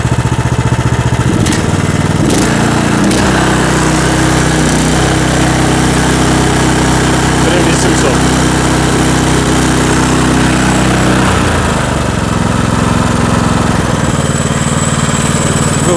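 A Weima 16 hp small engine runs continuously close by at 1800 rpm idle, a loud, steady buzzing rumble that holds its pace throughout with slight fluctuations.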